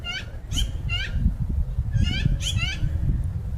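Crows calling in short harsh bursts, several caws spaced across the clip over a loud low rumble of outdoor background noise, at moderate distance.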